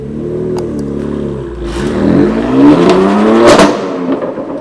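A 2018 BMW M4 Competition with a manual gearbox pulls hard in second gear from about 3,000 rpm, its engine note climbing steadily in pitch and loudness to a sharp peak near the end, close and with no talking.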